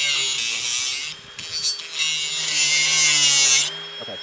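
A power tool cuts through a welded metal stair rail part, a loud, sustained high-pitched grinding whine close by, briefly dipping and resuming before it stops near the end.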